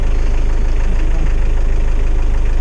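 A car engine idles steadily while warming up before a short drive, a loud, even low rumble with a faint knocking pulse running unbroken throughout.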